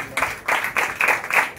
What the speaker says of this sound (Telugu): గట్టిగా చప్పట్లు కొడతారా?